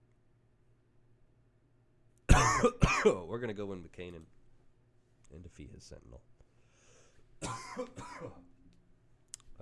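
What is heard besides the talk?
man coughing and clearing his throat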